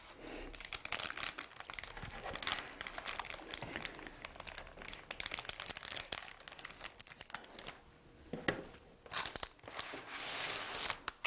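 A plastic sheet lining a cardboard flower box crinkles and rustles continuously as it is handled and pressed into place with a glue gun, busy close-up crackling throughout with a brief lull.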